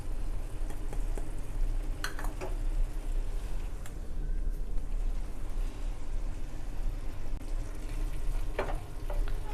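Prawn thokku masala frying in a pan, a steady close sizzle with occasional scraping stirs and light taps of the spoon against the pan.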